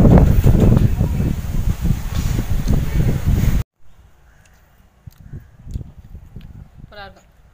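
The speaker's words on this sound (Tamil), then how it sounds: "காத்து நல்லா அடிக்குது." Strong wind blows outdoors, roaring and buffeting the microphone loudly for several seconds before cutting off, followed by quieter sounds and a voice.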